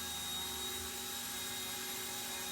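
An Eachine E120 BO-105 RC helicopter motor whines steadily and loudly with the throttle raised, holding a dense high-pitched buzz of rotor and motor noise close by.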